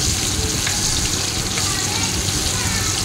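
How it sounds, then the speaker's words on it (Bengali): Potato pieces coated in turmeric fry in a pan, giving a steady dense sizzle that runs throughout at an even level, close and continuous with no pauses. "আলুটা যতক্ষণ ভাজবো ততক্ষণ না আলুটা লাল হয়ে যাচ্ছে।"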